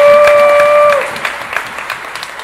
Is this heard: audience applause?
yes